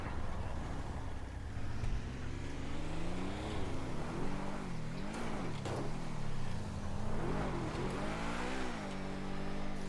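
Car engine driving in the video game GTA 5, a steady game-engine drone with rising and falling revs as the vehicle accelerates and shifts, loud and continuous with no talking.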